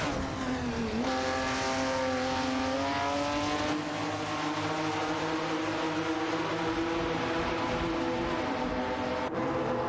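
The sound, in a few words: video game race cars, Chevrolet Camaro and Plymouth Superbird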